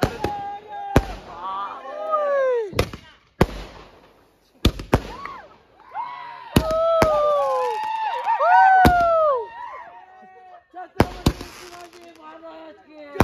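Firecrackers bursting at night during a Shivjayanti torch-run trek at Sankashi fort, sharp loud cracks scattered irregularly while crowds whoop and talk excitedly over them.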